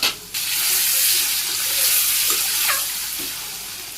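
Eggs beaten with salt, turmeric and chili sizzle and spit steadily in hot oil, a close, continuous frying hiss with occasional stirring clinks.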